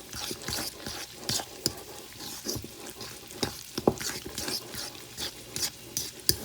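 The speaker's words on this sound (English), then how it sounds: "now we're just going to give that a mix. Just combine all your ingredients in with that cheese." A cheese, egg and smoked paprika mixture for tomato pie is stirred in a bowl, a steady, close run of wet scraping and squelching strokes with irregular spoon clinks, no talking.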